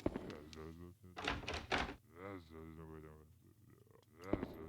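A locked door rattles and thunks in the survival horror game Haunting Ground, giving a few dull knocks in the middle of the clip while a voice talks over much of it.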